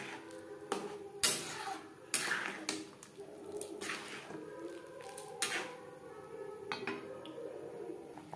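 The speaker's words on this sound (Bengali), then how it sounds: "এভাবে অনবরত নাড়তে থাকবো" A spoon stirs chicken vegetable soup with beaten egg in a pot without pause, giving soft wet squelching and sloshing broken by sharp, irregular clinks of the utensil against the pot, close and moderately loud with no talking.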